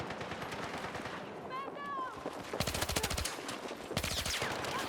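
Suppressed weapon fire in Battlefield 6 comes in two rapid bursts of crisp, muffled shots, preceded by a short whistling effect, and game ambience runs throughout.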